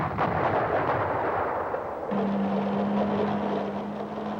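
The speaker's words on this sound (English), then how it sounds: "The artillery opened the battle for the mountains." Artillery fire opening a battle for mountain positions in the Falklands War: a dense, sustained rumble of distant guns with sharp cracks, continuous and loud throughout, joined midway by a steady low engine-like drone.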